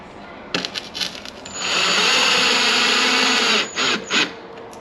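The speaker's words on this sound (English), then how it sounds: "so now we can go ahead and get all of our screws" A power drill drives screws into a carbon fiber front splitter on a Cadillac CTS, first with a few short taps and spins, then one long steady whine, followed by two brief closing bursts, loud and close.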